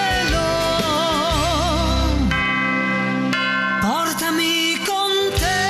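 Church-style bell tones ringing within an Italian pop song, sustained chimes over the band and melody, loud and continuous.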